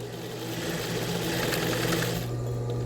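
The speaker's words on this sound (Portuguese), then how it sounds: "Eu costuro 2 vezes." A sewing machine stitches a seam twice over, a steady close mechanical whir with a low motor hum that slows and stops near the end.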